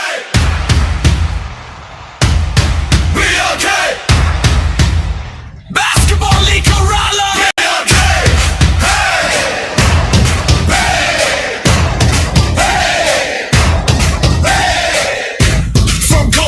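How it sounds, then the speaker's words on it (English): A crowd at an under-19 girls' basketball semi-final cheers and roars loudly and continuously, with bursts of yelling and a few thuds. "Give a big round of applause for the semi-finalists"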